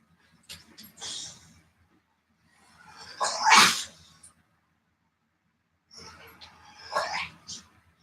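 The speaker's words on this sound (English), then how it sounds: "That interesting sound is my 100-year-old dog making interesting sounds." A very old dog gives three short bursts of snorting, sneezing sounds, the loudest in the middle and another near the end, each separated by silence and fairly close by.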